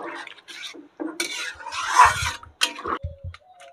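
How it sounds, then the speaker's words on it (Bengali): A potato and pointed gourd curry is stirred in a pot after water goes in, with intermittent clinks and scrapes of utensil against metal, close and uneven, separated by short pauses. "জলটা দিয়ে এই যে ভালো করে নেড়ে নেব"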